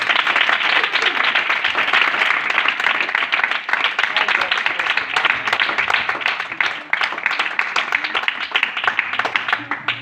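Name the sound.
applause from a church congregation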